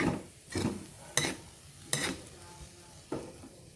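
Pineapple fried rice with turmeric being stirred in a pan, making soft sizzling with several separate scraping and clinking strokes of the utensil at close range, and no talking.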